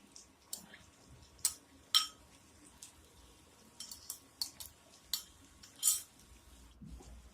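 Prawns coated in ginger garlic paste are stirred in a pan with green chillies, heard as scattered soft scrapes and clinks of a utensil against the metal, faint and irregular with no talk.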